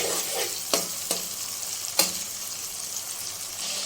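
Tomatoes fry with garlic in a pan for kadhi pakora, giving a continuous close hiss punctuated by a few sharp spoon clicks against the pan.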